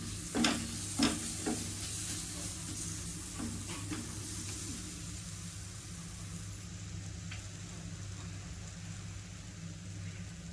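Roasted semolina and dry fruits are sautéed in a pan for prasad shira, a steady close sizzle with a few sharp stirring clacks near the start.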